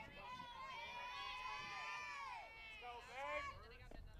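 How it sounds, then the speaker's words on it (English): Softball players shout and cheer from the dugout at a high school game, a lively cluster of raised voices at moderate distance that rises again near the end. "A big cheer out of the dugout"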